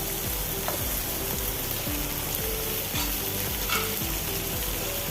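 Oats upma mixture stirred in a frying pan, a continuous dense sizzle with occasional scrapes of the spoon, steady and close, with faint music underneath.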